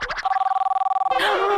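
A telephone rings with a rapid warbling electronic trill. Short bursts come first, then a sustained pulsing tone, and a voice and other sound break in at the end.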